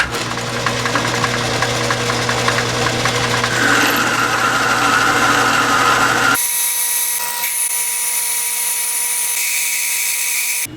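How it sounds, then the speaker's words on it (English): A metal lathe bores a hole out to just under three-quarters of an inch for a rebuilt rotary tumbler, giving a loud steady machining whine and chatter, then a sudden change to a thinner tone. "Now I'm set up to bore, and I'm going to go just under"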